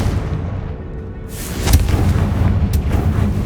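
A fiery Confringo spell blast in Hogwarts Legacy on PS5, a booming burst that erupts at mid-clip after a low rumble and leaves a loud crackling roar afterward.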